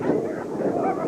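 A working dog barks and yips at a trainer during bite work in a training yard, dense continuous vocalising up close with some voice mixed in.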